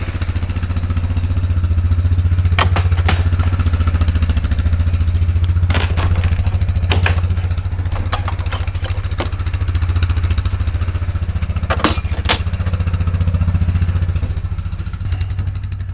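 A motorcycle engine idles steadily outside a shop while warming up, a loud, even low throb with light mechanical clatter and a few brief knocks, running alone without speech.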